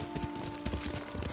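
Horse hooves clip-clop as a rider travels on horseback in the video game Ghost of Tsushima, giving quick, regular hoofbeats over a steady tonal background.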